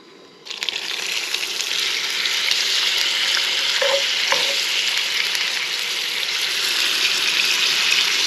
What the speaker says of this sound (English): Just cook these fillets in the butter.